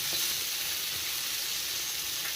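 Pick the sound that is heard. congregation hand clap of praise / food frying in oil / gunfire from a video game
food frying in oil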